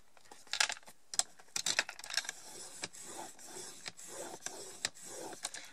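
Paper being folded and creased by hand for an Advent calendar craft: crisp crackles and scraping rubs, close and moderately loud at first, then a steady softer rustle, with no talk.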